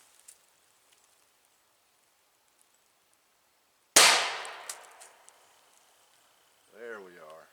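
A vest pocket pistol fires once at a pumpkin about four feet away: a single loud, sharp crack after near silence, followed by a ringing decay and small rattles. A voice is heard briefly just afterward.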